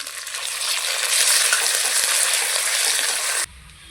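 Onion and garlic paste fries in a pan with a loud, continuous hiss and sizzle that stops abruptly near the end, with no one talking.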